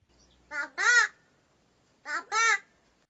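A pet crow mimics human speech with two separate bursts of voice-like, two-part syllables, clear and near, with silence between them.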